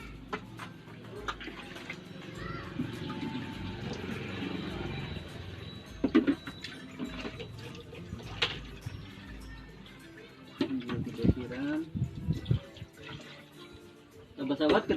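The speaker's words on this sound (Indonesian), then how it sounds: "Ini juga kita siram." Water splashing onto fermenting goat manure compost mixed with green plant material, an uneven, close trickle and spatter joined by scattered knocks and handling clatter that grow busier toward the end.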